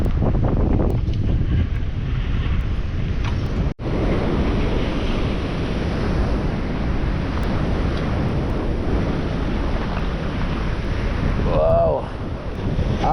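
Big sea waves roll and crash around a small fishing boat at sea, a steady loud broadband roar with heavy wind buffeting the microphone throughout, one brief dropout midway and a voice briefly near the end.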